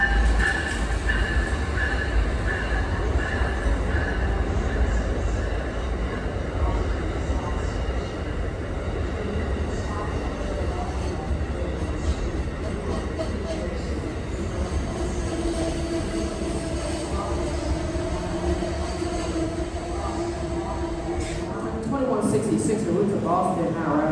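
Train 125, a passenger train from Springfield, Massachusetts to Newport News, Virginia, arrives at a station with a loud steady rumble of rolling wheels and rail noise, rising squeals near the end, and voices talking over it.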